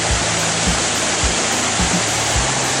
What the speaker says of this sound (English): This is just where the water comes over from the very top